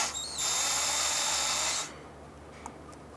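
A power tool whirs near at hand for about a second and a half, spinning out a transmission oil pan bolt under a 2004-2009 Dodge Durango, then stops, leaving quiet with a faint clink.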